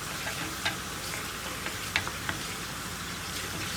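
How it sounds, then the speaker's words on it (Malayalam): Chopped onions fry in a pan for a Kerala-style snake gourd dal curry, giving a faint, steady sizzle with a few soft ticks and scrapes from stirring, and no talking. "അപ്പോൾ നമ്മുടെ ഉള്ളി ഇങ്ങനെ കളറൊന്ന് മാറി വരട്ടെ."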